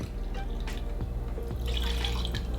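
Irish whiskey pours into a cocktail glass, a short close trickling splash with a few drips, rising slightly toward the end.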